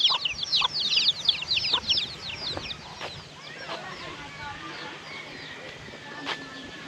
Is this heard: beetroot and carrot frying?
no